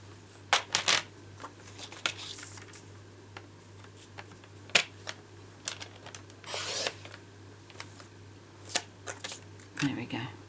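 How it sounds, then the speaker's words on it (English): Card sentiment pieces for a handmade card being trimmed close by, giving scattered crisp snips and papery clicks and rustles, fairly quiet and irregular, with a faint steady hum beneath. "let me just cut these off a bit"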